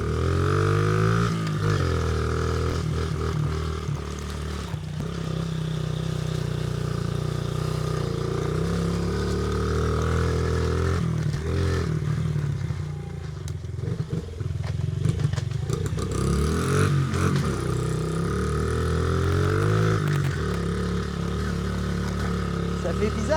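A tiny Honda CRF 50 semi-automatic mini motorcycle engine runs close by for the whole stretch, holding a steady buzzing idle that swells into several short revs.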